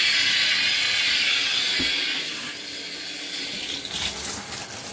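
Steady broadband rush of water spraying from a shower head fed by a mini tankless water heater, continuous and fairly loud throughout, with a faint soft thump partway through.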